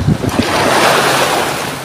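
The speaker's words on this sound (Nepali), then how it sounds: "आम्मामा छाल त डेन्जर ठुलो आइरहेको छ हौ" Big sea waves break on a beach where people are swimming, a loud roaring wash with wind buffeting the microphone, building from a choppy start into a sustained surge.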